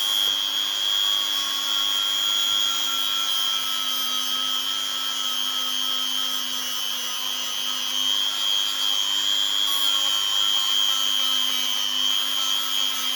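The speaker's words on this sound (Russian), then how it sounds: "Это вот и есть шлифовка" A rotary tool grinds a knife blade, its steady high-pitched whine holding one even tone for the whole stretch, loud and close with no talk over it.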